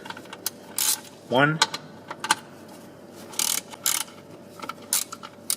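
Ratchet with a 13mm socket working on bolts of an engine snub mount on an Audi/VW 1.8T engine, giving several short bursts of rapid clicking spread through the clip, close and moderately loud, with one brief spoken word.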